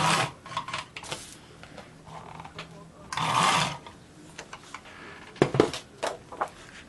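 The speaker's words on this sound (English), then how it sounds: "So I'm going to adhere those together using my glue glider." Glue glider rolling adhesive onto cardstock for a scrapbook layout, giving soft close scratchy rubs and clicks in short bursts, with someone talking between them.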